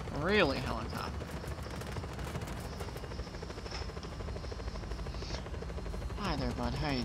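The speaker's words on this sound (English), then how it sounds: "Really, helicopter?" Helicopter in Just Cause 4 thrums steadily overhead, a continuous rotor drone mixed with bursts of gunfire, while a voice talks over it near the start and end.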